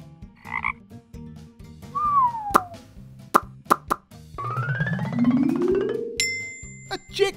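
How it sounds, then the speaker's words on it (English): A short, croaky frog call near the start, followed by cartoonish plops, pops and a swooping slide effect over a light, bouncy musical backing. "A frog!"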